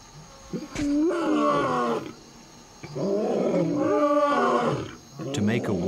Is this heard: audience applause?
no